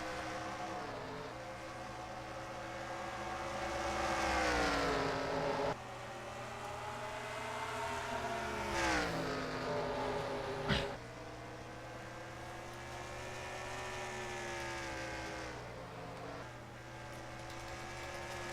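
A pack of stock cars leaves the start at Bristol in a racing video game, engines droning and rising together in pitch through repeated gear shifts, a continuous loud whine with no commentary over it.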